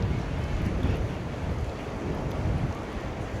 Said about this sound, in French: Vous voyez, il y a du vent